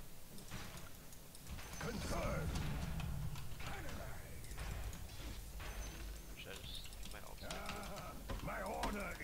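In Dota 2, a hex turns a hero into a sheep that bleats in short bursts. The bleats are mixed with game effects, keyboard clatter and people talking throughout.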